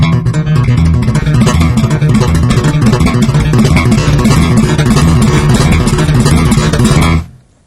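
Bass guitar played with a funk thumb-and-finger technique, sounding a major 7th chord in a dense, steady, loud run of strummed and plucked notes that stops abruptly near the end.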